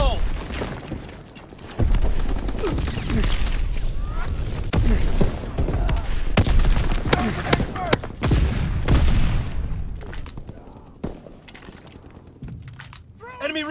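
A sticky bomb goes off in a Call of Duty: WWII battle at Sainte Marie du Mont, with loud bursts amid rapid gunfire and booms, and shouted voices mixed into the dense combat din.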